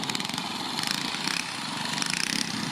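A trials motorcycle engine runs at a steady buzzing drone with a slight rhythmic pulse, heard at moderate distance with no voices over it.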